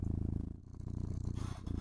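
Steady cat purring set to a slow, sleepy rate plays through a stream, a continuous low rumbling drone with regular pulsing throughout and a brief dip near the middle.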